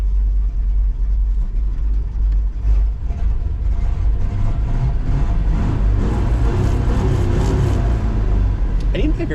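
Low rumbling idle of a 1964 Chevrolet Corvette C2 V8, parked on a wintry road, running steadily throughout at close range while a person talks over it.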